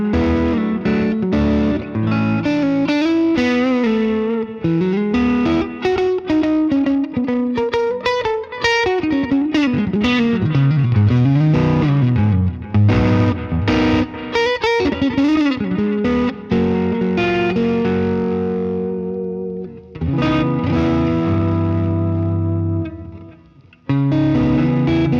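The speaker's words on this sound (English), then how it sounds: "Really like the way that tube screamer just breaks up gently." Electric guitar played through a Line 6 HX Stomp with a Fender amp model and Tube Screamer distortion, gently breaking up with tube echo: loud, continuous chords and melodic lines, a brief drop near the end, then a final ringing passage that cuts off.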